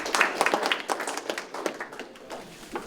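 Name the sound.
applause at city council meeting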